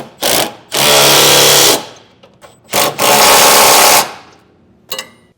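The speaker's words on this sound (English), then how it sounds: "Next, we'll tighten down our outside side plates. So once again, a 3/4 inch socket" Power impact tool driving side plate bolts with a 3/4 inch socket on a B&W Turnoverball underbed gooseneck hitch in a 2023 Ford, in loud close bursts: two short, two long, then a brief final blip.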